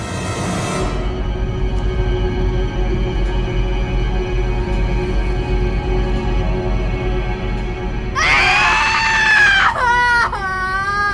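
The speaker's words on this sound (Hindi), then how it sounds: "जितना चीखना है उतना चीख।" A girl screams and wails in a tense domestic scene from a crime drama, a loud burst of high, wavering cries erupting near the end over a steady low background hum.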